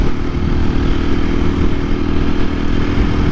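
A 2024 KTM EXC-F 500 dual sport motorcycle accelerates hard in third gear with the rear tire spinning, its engine a loud, steady, throbbing roar close by, with no talk.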